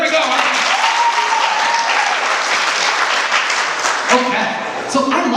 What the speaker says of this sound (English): We'll clap for engineers.